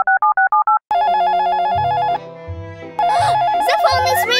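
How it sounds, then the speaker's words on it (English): A telephone rings in a cartoon about cars with watermelon wheels, a few short electronic trills followed by a burst of bright, tonal music-like ringing with shifting melodic tones, loud and close. "The phone is ringing."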